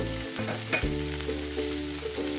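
Sesame powder being stirred into rice with broad beans and capsicum in a pan, a close, soft scraping stir over a steady background sizzle.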